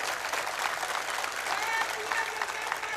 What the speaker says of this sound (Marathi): एकदा जोरदार टाळ्या वाजवून त्यांचं स्वागत करा